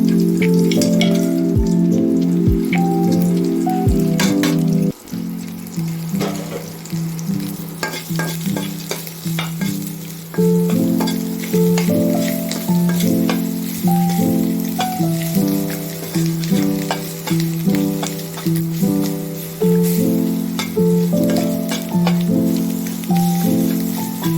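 Ingredients hitting hot tempering oil in a pan for a bean-seed dal, a loud continuous sizzle with regular rhythmic stirring scrapes and clicks over a steady tone, no speech.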